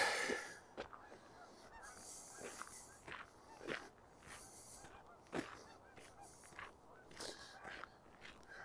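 Geese honk intermittently at a distance on a December walk in Regina, brief nasal calls rising between footsteps crunching along a path.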